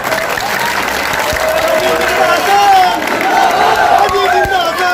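Crowd at a Hindi-language election rally, sustained clapping and cheering with crowd babble, steady and fairly loud throughout with tonal whistles or shouts rising above the noise.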